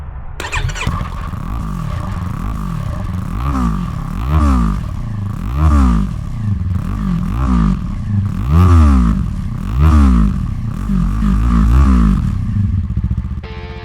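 A 2025 Yamaha R3 motorcycle fitted with an Akrapovic exhaust starts up and idles, then revs repeatedly in rhythmic blips, loud and close with a rumbling, raspy tone throughout.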